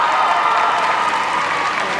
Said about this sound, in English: the crowd is clapping for this